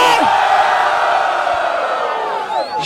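Crowd at a rap battle in Barueri, São Paulo cheering, whooping and yelling loudly and continuously, a dense close roar that eases slightly near the end.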